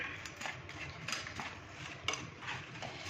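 Crab is mixed with powdered masala spices in a pan, with repeated scraping and clinking of a metal spoon in an uneven rhythm, steady and close.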